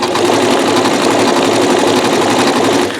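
A Janome MC9900 sewing machine stitches with metallic thread in one loud, continuous, fast whirring run that holds steady for about three seconds before easing off at the very end.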